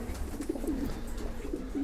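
Breeding pigeons coo softly in a loft, low repeated throaty calls rising and falling over about two seconds, fairly faint and close with a steady background hum.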